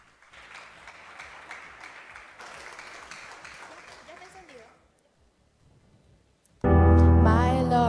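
Applause from an audience at a national song and spelling festival, a moderate patter of clapping that fades out, then a short pause before loud music begins.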